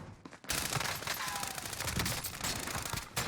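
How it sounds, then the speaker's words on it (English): Rapid gunfire bursts in the Warzone battle royale on Rebirth Island, loud and sustained, with overlapping automatic shots crackling close by for several seconds and no talk. "We're getting shot from behind"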